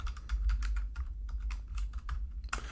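Steady, close typing on a computer keyboard while writing Java code, a quick irregular run of crisp key clicks with brief pauses, alone and fairly clear.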